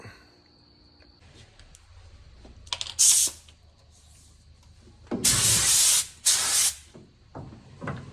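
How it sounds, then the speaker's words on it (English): An aerosol can hisses in three bursts, one short and then two longer sprays close together, with quiet clicks and handling noises between, spray painting a seam-sealed 1963 Ford Galaxie chassis. "now I'm going to spray it"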